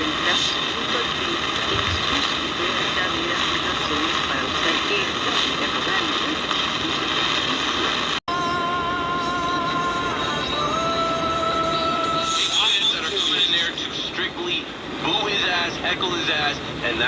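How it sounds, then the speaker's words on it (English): A shortwave broadcast from Radio Havana comes through a Semier SM-812 portable receiver, a steady wash of static and hiss with whistling heterodyne tones rising out of it partway through, loud and continuous. "Sounds like Radio Havana coming in."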